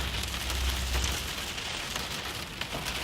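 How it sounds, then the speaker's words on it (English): A steady, dense patter of hail striking surfaces during a Midwest storm, a continuous loud rattling roar close by with a few sharper impacts and no talk. "Sounds like there's some larger hail falling now, perhaps a little bit larger than cheese curd-sized hail."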